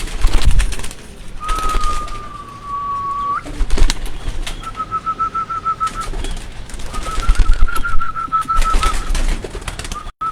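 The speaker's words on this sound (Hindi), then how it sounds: "इस तरह बड़े भी कुछ कबूतर इनके उड़ने वाले हैं।" Pigeons on a rooftop, with soft cooing and occasional wing flaps close by, under a sustained whistle-like tone that comes and goes.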